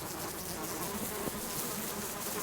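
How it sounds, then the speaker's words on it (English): Bees buzz in a steady, dense drone while honey is gathered in the survival video game Subsistence, with a continuous insect hum filling the whole stretch and no talking. "I was trying to get the honey. Come on, bees. Go away."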